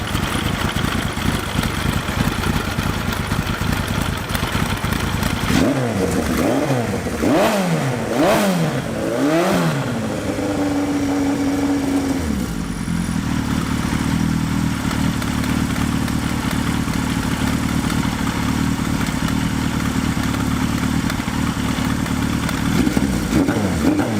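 A Suzuki GS1100E motorcycle with upgraded Mikuni RS34 carburetors idles, then gives a quick series of sharp throttle blips that fall back into a loud, slightly uneven idle.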